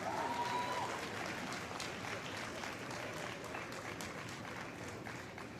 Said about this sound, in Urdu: تو آپ نے زوردار تالیاں اپنے اساتذہ اور پروفیسرز کے لیے بھی بجانی ہے